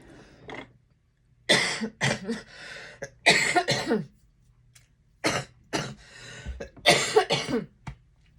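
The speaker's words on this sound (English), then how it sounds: "I was coughing" Several bursts of harsh coughing and throat clearing in a quiet room, close by, coming in irregular clusters separated by short pauses.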